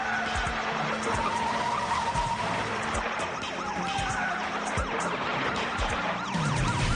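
A car towing a trailer with jet skis fishtails during a police chase, giving long tyre skids under a steady, loud roar of engines and sirens, with no voices.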